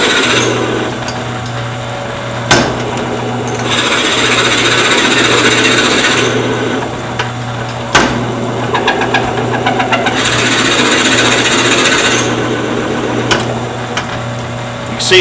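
A wood vase being drilled out on a lathe: a loud, steady motorized whine and grinding hum with a couple of sharp clicks and shifts in intensity as the tool advances and backs out, close with no talk.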